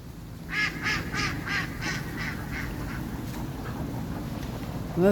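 Mallard ducks quack beside a stream in a run of about eight quick calls that fade as they go on, followed by a few fainter quacks, with steady water and outdoor noise underneath.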